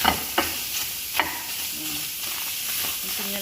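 Meat being stirred in a dry pan with no oil, soft scraping and light sizzling with a few sharp clicks of the utensil near the start, fairly quiet and close.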